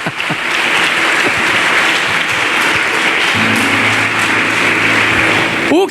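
A church congregation claps loudly and continuously for several seconds, a dense, even wash of applause, with some voices or singing faintly mixed in later.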